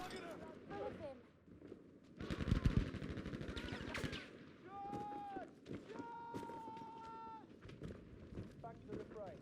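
Bursts of gunfire and running footsteps from a video game esports match sit beneath a caster's voice, with quick rattling shots and faint electronic tones, moderately quiet in the mix.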